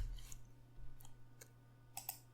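A computer mouse clicks faintly a few times, with crisp, isolated taps spaced irregularly and a close pair at the end, over a low electrical hum.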